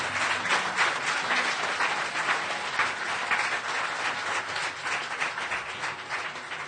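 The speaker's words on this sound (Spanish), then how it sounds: "Dese un fuerte aplauso ahí" Congregants at a Spanish-language evangelical worship service break into sustained applause, a continuous wash of many hands clapping at an even level throughout, with no speech on top.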